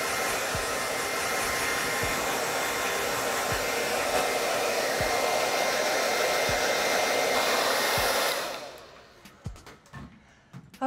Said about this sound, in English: We're gonna just do a tussle dry.